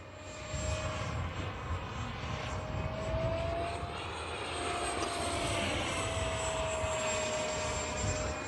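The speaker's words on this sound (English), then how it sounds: "Man, it's a great flying jet." A Freewing A-6 Intruder 80mm radio-controlled jet flies overhead, its ducted-fan whine loud and steady throughout with a slight swelling as it passes, outdoors with no talk.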